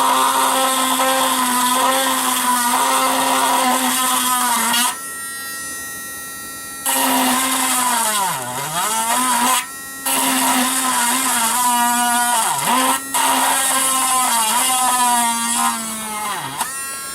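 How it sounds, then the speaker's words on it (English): A power drill with a dull bit runs at a steady hum while making a dimple in a part on a coffee table, its pitch dipping several times as the bit bears down, with two brief stops. "I'm using a dull drill bit because I don't want to go through"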